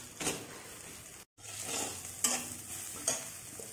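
Spiced mixed vegetable curry with chilli, coriander, garam masala, salt and turmeric being stirred in a pan, a few scraping stirs sizzling close up with a brief gap, no voices.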